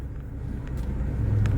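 A car rumbling past at road level, a steady low drone that swells slightly toward the end, with no voices.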